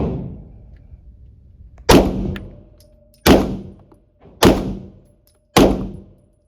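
Four sharp, loud handgun shots from a Staccato XC pistol firing Hornady Critical ammunition, spaced roughly a second apart, each with a quick ringing decay outdoors, preceded by a fading earlier report.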